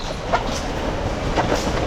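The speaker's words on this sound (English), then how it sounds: "I'm just going to take a quick pass through the train station" Trains at Copenhagen Central Station, a steady rumble of rail cars rolling over the tracks with clickety-clack wheel beats, a brief squeal and a clatter in an echoing station hall, no talk.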